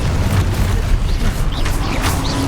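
A Confringo fire spell detonates in Hogwarts Legacy: a loud, close, rumbling boom with a dense low roar, with swirling magical whooshes and chirps layered on top.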